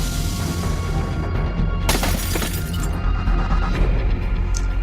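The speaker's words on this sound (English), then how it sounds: "breaking glass, blood splattering" Glass breaking and smashing amid brawl effects in a pool hall, a loud, dense crash-heavy mix with a sharp shatter burst near the middle over continuous rumbling noise.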